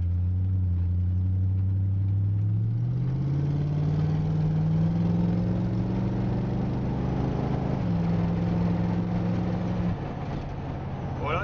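A 1931 Ford roadster's engine pulls hard and loud from close by, its drone climbing steadily in pitch, briefly dropping at a shift, then rising again as the car speeds along.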